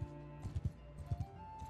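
Horse hooves clip-clopping in the video game Mount & Blade II Bannerlord, several soft paired thuds in an uneven rhythm over a steady low game hum.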